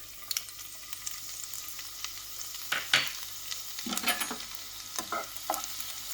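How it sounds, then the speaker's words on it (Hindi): Garlic sautés in hot oil, a quiet steady sizzle broken by a few sharp stirring scrapes and spatula knocks against the pan, with no voices. "We don't need to brown the garlic, we just need to kind of saute it for about 15, 20, 30 seconds"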